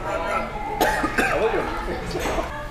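Someone coughs a few times, short and rough, near the microphone while other people talk and chatter around them at a burger place.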